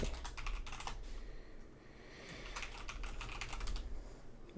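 Rapid clattering keystrokes on a computer keyboard, arriving in dense bursts with short pauses, close and moderately loud over a low steady background hum.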